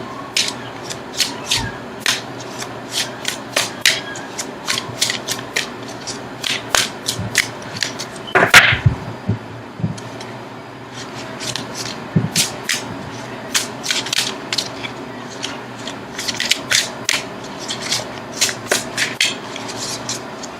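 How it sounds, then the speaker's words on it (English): Tarot cards shuffled by hand in a long run of crisp, rapid riffles and slaps, close and fairly loud, with a brief louder knock near the middle and no talking. "now I'm going to shuffle for an outcome card"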